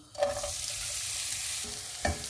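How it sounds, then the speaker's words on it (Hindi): Onions hit hot oil for a beef curry with a bright sizzle that flares at the start, holds as a steady broadband frying hiss, and flares again near the end as more go in or get stirred. There is no talk. "ऑयल गर्म हो गया, इसमें प्याज डाल देंगे"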